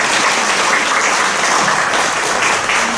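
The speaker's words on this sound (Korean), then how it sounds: "우리 좋은 강의 발제해 주신 우리 전진우 목사님께 다시 한번 큰 박수 부탁드립니다" A lecture audience at a Catholic symposium breaks into loud, sustained applause, a dense, even wash of clapping that fills the room, no voices.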